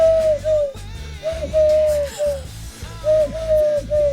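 A person imitates a wood pigeon's call with a voice, giving soft, hooting coos in short rhythmic phrases that repeat three times, close and clear with little else around.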